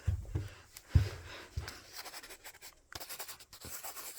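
Pen or pencil writing by hand on paper in a classroom setting, producing soft scratchy strokes in short bursts with a few louder taps, close and quiet, no talk over it.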